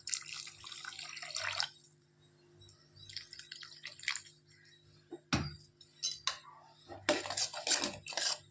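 Wet sizzling and bubbling as a little water is mixed into masala frying in a hot pan, coming in hissing bursts with quieter gaps between.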